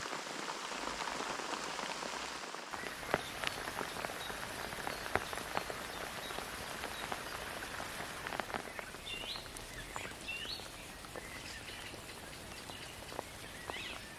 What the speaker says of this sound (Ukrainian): Дощ пройшов.